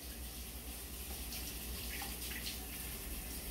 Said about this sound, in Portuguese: Aí você passa uma água aqui e sempre vem passando a mão, que a sujeira vem vindo junto.